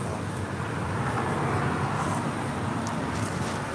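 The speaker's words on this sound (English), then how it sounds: "This is American Airlines 481 taking off to Philadelphia on an A321 Neo." An American Airlines Airbus A321neo takes off from Los Angeles International for Philadelphia, producing a continuous, fairly loud broadband roar and hiss from a distance that stays even throughout.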